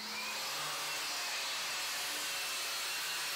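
A CNC table cuts sheets of plywood with a loud, continuous whining roar of spindle and dust extraction, steady and unbroken throughout.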